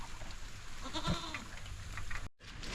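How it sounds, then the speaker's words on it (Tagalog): A young goat gives one short, wavering bleat at moderate distance against a soft, steady outdoor background hiss, with no voices. "Kambing na to."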